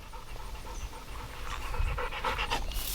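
A dog pants rapidly and steadily nearby, quick rhythmic breaths over faint outdoor background noise.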